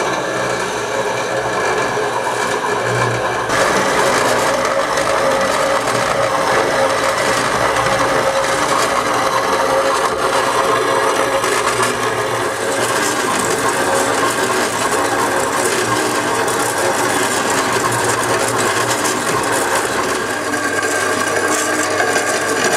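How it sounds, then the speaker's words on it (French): A metal-cutting band saw slices through long steel profile bars, its loud, steady grinding rasp running continuously with slight shifts in texture and no talk. "pour débiter le métal, j'utilise donc une scie à ruban spécifique pour le métal"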